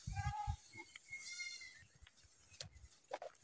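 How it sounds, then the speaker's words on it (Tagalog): Many goats at the Mt. Zion pilgrimage site bleat several times. The calls are fairly faint and come in a short burst near the start, then sparser bleats follow amid outdoor background noise. "Uy, ang daming kambing, oh."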